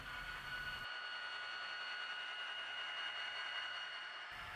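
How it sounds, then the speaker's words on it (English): A steady, continuous diesel engine drone with a constant hum, holding at an even level throughout, from an HO scale ScaleTrains SD40T-2 model locomotive's sound system notched back to idle while coasting. "A coasting locomotive can notch back down to idle while still moving."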